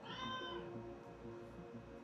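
A cat meows close by in one drawn-out, whiny call that fades into a quiet room with a low background hum.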